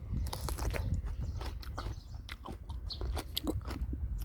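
Crisp, repeated bites and wet crunching chews into an unripe plum, close and fairly loud, in an irregular rhythm of sharp cracks over soft mouth noise, with no talking.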